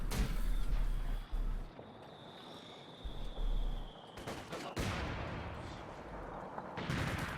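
Company of Heroes 2 match with PTRS rifle fire and an SU-76 artillery barrage: bursts of gunfire and booming impacts recur over a dense, loud battlefield rumble.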